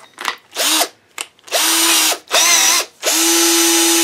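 A power drill spins a spark plug socket holding a bolt and nut, used for annealing brass cartridge cases, in five short whirring bursts, each rising then holding pitch, loud and close.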